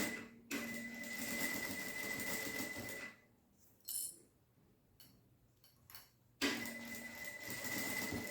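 A sewing machine stitches fabric for a Santa Claus doll in two loud steady runs at the start and end, with a quiet pause of small clicks and handling between them.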